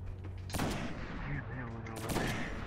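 Gunfire in the Destiny video game, with two loud bursts about a second and a half apart over a dense rumbling battle backdrop; no clear talk over it.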